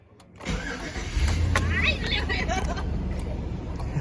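A 2002 Chevrolet Avalanche cranks and fires up at night, its engine catching after a brief start and settling into a steady, fairly loud rumble close by, with faint background voices.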